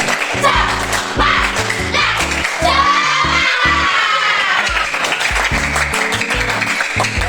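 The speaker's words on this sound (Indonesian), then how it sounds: "Bapak loncat semangatnya dengan tepuk semangat yang keras" Primary school class in Indonesia doing a loud spirit clap, fast rhythmic group clapping with children's shouts and cheers mixed in, crowded and energetic throughout.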